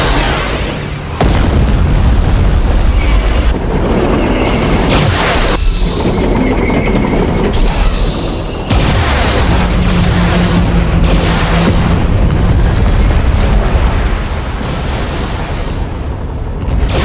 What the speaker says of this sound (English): Bombing run available.